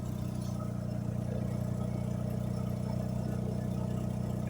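A PT Cruiser engine idles steadily with a low, even hum and a faint rhythmic pulse, heard up close and continuously, with no obvious misfire standing out and no talk.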